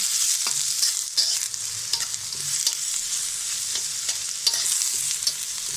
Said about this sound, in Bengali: এখন পেঁয়াজটাকে আমি ভেজে নেব।